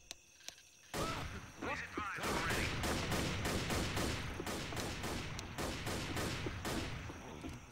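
M16 rifle fire in the zombie shooter Left 4 Dead: rapid, evenly spaced bursts of loud shots crack one after another, with game noise and occasional voices underneath.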